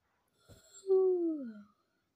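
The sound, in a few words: a fake yawn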